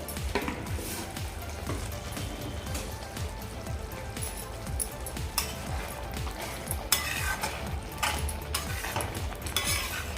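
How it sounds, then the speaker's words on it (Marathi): A spoon scrapes and stirs repeatedly around a pan of Kashmiri rajma masala with a constant soft sizzle, the strokes steady and close. "व्यवस्थित हे मिक्स करून घेते"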